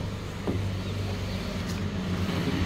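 A Toyota Corolla pulls out and starts driving off, giving a low, steady engine and road rumble heard from inside the car, fairly quiet, with a brief knock partway through and no speech.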